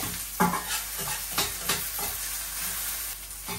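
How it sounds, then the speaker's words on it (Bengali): Chopped onion frying in oil in a pan, with a constant close sizzle and repeated stirring scrapes of a spoon against the pan throughout. "এখন পেঁয়াজটি একটু ভাজা ভাজা হয়ে গেছে,"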